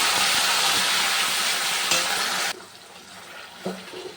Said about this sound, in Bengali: পনির ভাজা হয়ে গেছে, এই যে মশলাটা দিয়ে দিলাম, এলাচ, দারচিনি, লবঙ্গ, তেজপাতা, শুকনো লঙ্কা।